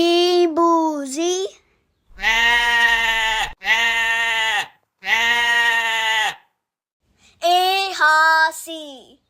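A goat bleats loudly and close up in a farm setting, four or five long wavering calls separated by short pauses.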